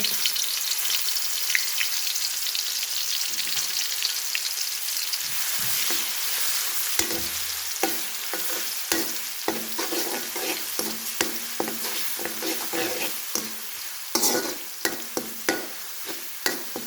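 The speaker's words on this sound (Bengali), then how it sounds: "তেলটা একটু গরম হওয়ার পর আমি তেজপাতা ধুইয়ে ভালোভাবে আমি এখন রসুন দিয়ে দিব" Garlic and washed bay leaves fry in hot oil in a wok, giving a steady close sizzle that turns to sharper crackles and scattered clinks and scrapes of stirring in the second half, with no voices.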